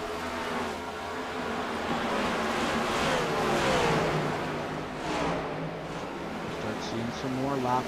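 Stock cars roar around the oval in a Cup Series video game race, a steady engine drone with rising and falling pitch sweeps as cars pass, running continuously under a commentator's voice.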